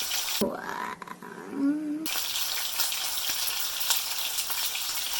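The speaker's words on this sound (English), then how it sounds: "we just gonna lay it in our now seasoned oil. Oh, listen to that" Seasoned ribeye steak laid into hot seasoned oil: after a short muffled stretch with a voice, a loud, dense, continuous sizzle bursts up and holds steady, close to the pan.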